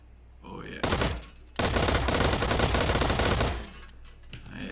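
Rapid automatic gunfire at a shooting range in the video game Transience: a short opening burst, then a longer sustained stream of shots, loud and close, fading into a quiet tail.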